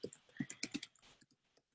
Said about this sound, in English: I'm typing as I speak.